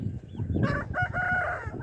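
A farmyard hen clucks near her chicks in a short run of loud, close calls with a few brief overlapping cackles.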